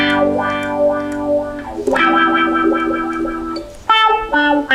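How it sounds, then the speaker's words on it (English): Electric guitar played through a wah-wah pedal in a funk style: distorted, sweeping chords and notes whose tone swells and shifts, loud and continuous with a brief break, no voices. "a pedal on the floor and you rock it backwards and forwards and it creates this sound that goes wah wah"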